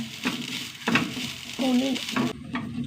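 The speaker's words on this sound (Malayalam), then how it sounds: "നന്നായി വറുത്തെടുക്കട്ടെ" Grated coconut fries in coconut oil in a pan, with bursts of sizzling and stirring scrapes. A faint voice or tonal sound rises briefly in the middle.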